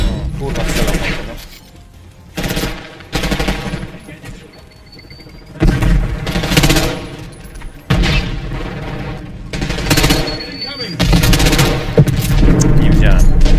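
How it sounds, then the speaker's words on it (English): Bursts of gunfire in Call of Duty Black Ops 6, loud repeated volleys in several clusters with short gaps between them, mixed with game effects and someone talking over it. "strzelam"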